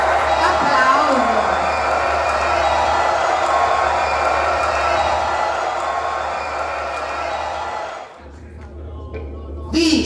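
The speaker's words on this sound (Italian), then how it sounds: "Applauso." A crowd applauds and cheers at the Miss Butterfly 2022 award ceremony in a club, a loud, continuous roar of clapping that holds steady for several seconds and then drops away abruptly.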